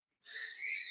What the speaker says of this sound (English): my birds are fighting in the background.